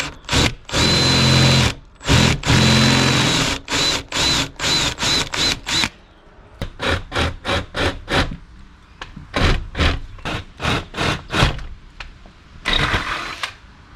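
A power drill boring a hole in a storm door whirs in loud, sustained runs, then stutters in short repeated bursts with brief pauses between, close by and with no talking.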